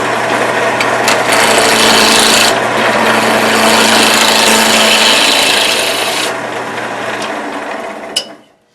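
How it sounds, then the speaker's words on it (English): Roughing gouge taking a roughing cut on a wood lathe, tool rest set below center: a loud, continuous broadband scraping rasp over a steady motor hum for about seven seconds, then fading out as the cut ends. "So my first cut is going to be tool rest below center line. Roughing cut, roughing gouge,"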